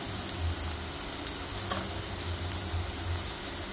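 Tomatoes, turmeric, red chili powder and spice masala sauté in hot oil in a pan for egg rice, giving a steady, even sizzle and fry throughout.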